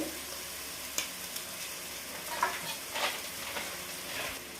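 Onion and tomato frying in a pan with a spoonful of ginger garlic paste for mushroom dum biryani, a soft steady sizzle broken by a few light spoon taps and scrapes, fairly quiet with no talk.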